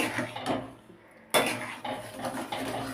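Thick mango pulp is stirred in a pan, a spoon scraping and clinking against the metal with a short pause partway through, close and fairly quiet.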